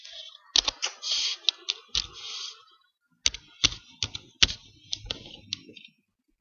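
Quick bursts of computer keyboard typing, a link being entered, with clustered clicks, a short pause, then more separate keystrokes, close and fairly clear.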